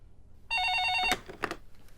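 A telephone rings once for about half a second as a call goes out to an assistant, followed by faint clicks and shuffling in a quiet room.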